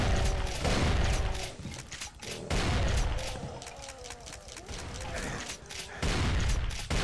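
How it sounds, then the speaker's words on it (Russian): Long-range rifle fire in Brutal Doom comes as bursts of sharp shots and mechanical clatter, in several loud volleys separated by quieter gaps. "Начинается вот эта стрельба на дальней дистанции из ружей"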